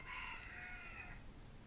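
A rooster crows once, faint and distant, a single drawn-out call in an otherwise quiet outdoor setting.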